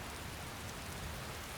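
Rain falling steadily, a dense even patter of drops with no pauses, soft and close with nothing else over it.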